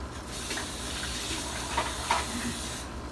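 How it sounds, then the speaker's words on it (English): Water pours and splashes in a steady stream for a few seconds, with a soft hiss, then stops, as a little water is added to milk. "We might have to add just a little bit of water"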